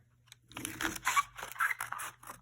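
Decorative sketchbook paper is cut, either by hand or on a paper cutter, in a few quiet, uneven scraping and crunching bursts with short pauses between, close by and with no speech.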